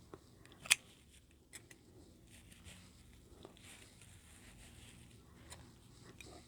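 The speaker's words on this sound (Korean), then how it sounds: "그래서 흰 실은 또 잘라주세요." Scissors snip white yarn while crocheting a flower dish scrubber: one sharp, close cut near the start, followed by a few faint clicks and handling noises in a quiet room.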